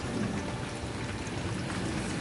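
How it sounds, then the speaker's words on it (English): Steady rain falling outside during a storm at a lake, a soft, even hiss of drops pattering on surfaces, constant and fairly faint with no distinct thunder clap. "listen to that lightning and thunder. It's raining outside."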